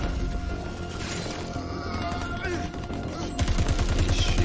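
Gunfire in the video game Crackdown 3 during a co-op campaign, with dense bursts of rapid shots growing louder toward the end.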